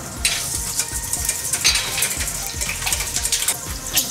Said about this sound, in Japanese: ベーコンちゃんがこのくらい色づいてきたら、まあちょっと動かしてあげましょうかね